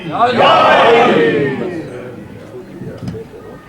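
A crowd at an Eid Zahra religious gathering during Muharram at Shah-e-Najaf in Washington DC roars a slogan back in unison, one loud swelling shout that fades over a few seconds.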